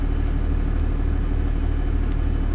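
A tractor working soil in a farming simulator game gives off a steady low engine rumble, an even drone that runs unbroken throughout with no other sounds over it.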